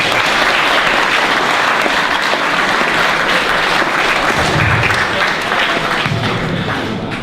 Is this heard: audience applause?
yes